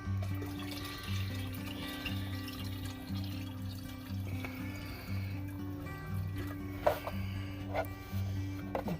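Thick homemade sardine slurry fertilizer is poured from a container, giving a steady low gurgling, sloshing flow with a few brief splashes near the end, close and fairly quiet.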